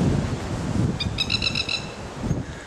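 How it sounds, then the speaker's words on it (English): A bird repeats a short, bright chirping call five or six times in a quick series, moderately distant, over steady wind and outdoor rustle. "That's that bird over there making that noise."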